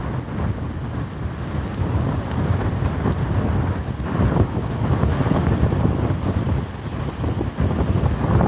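Continuous gusty wind buffeting the microphone, a loud low rumble that never lets up, with no voices.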